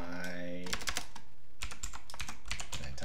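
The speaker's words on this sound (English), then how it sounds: "I type my vec" Rapid keystrokes clatter on a computer keyboard as code is typed, a dense run of close clicks after a brief tonal sound at the start.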